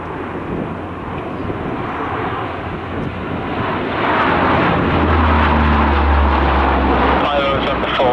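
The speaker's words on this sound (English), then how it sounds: "The sort of radius of turn of the Hercules is about a quarter of a mile, which isn't bad for a big aeroplane." Big four-engine Lockheed Hercules transport turning in a tight circle at a 1995 RAF Fairford airshow, a steady loud propeller-engine roar building slightly, with a commentator talking over it throughout.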